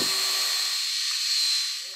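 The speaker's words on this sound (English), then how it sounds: "A small wire brush on a drill makes cleaning the hole out easier." A high-pitched power drill with a small wire brush whirs continuously up close, cleaning out a hole in a car's brake assembly, steady, then winds down at the end.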